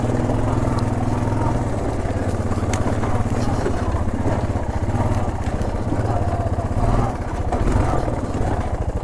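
A Honda Foreman 400 ATV on 24-inch tires runs steadily during a test drive, a loud continuous chugging engine drone with slight swells, up close.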